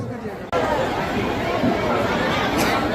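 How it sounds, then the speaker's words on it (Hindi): A huge crowd at a Dussehra Ravan Dahan festival in Varanasi fills the air with dense, constant chatter and babble, a loud steady roar of many voices close around. "दोस्तों कितनी खचाखच भीड़ लगी हुई है"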